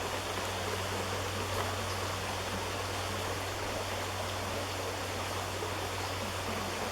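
A creek on a ranch runs with a steady, even rush of flowing water, continuous broadband noise without breaks and no voices.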